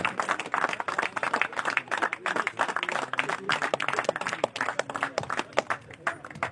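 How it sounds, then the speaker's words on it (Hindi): Scattered, uneven clapping from a modest crowd at a cricket prize ceremony during a tournament final in Srinagar, individual claps distinct and irregular, moderately close and continuing for several seconds. "इनके लिए जोरदार तालियां"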